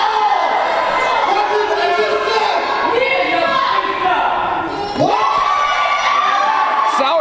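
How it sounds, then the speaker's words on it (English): A wrestling crowd at a Valentine's Day independent show jeers Cecil Cerveza, a loud continuous roar of mixed shouts and whoops with voices rising and falling throughout. "Crowd here is just letting Cecil Cerveza have it"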